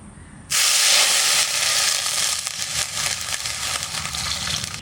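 Water splashes into hot oil while boroli fish cooks, setting off a sudden loud, fierce sizzle that holds steady as a dense hiss and slowly eases, with no voices.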